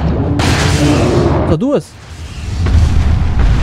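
Heavy Magnum revolver fire booms in the video game Resident Evil 4, loud and sustained over game noise, broken briefly by a voice speaking before the din resumes.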